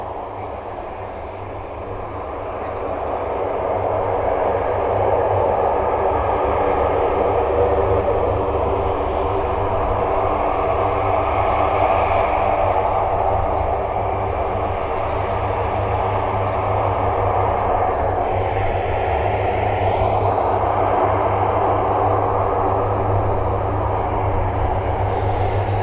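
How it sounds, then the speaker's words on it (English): Aircraft engines at RAF Mildenhall, a steady loud broadband roar that swells after the first few seconds and holds, distant jet noise carried on the wind with a shifting tone. "I can certainly hear the sound changing on that aircraft."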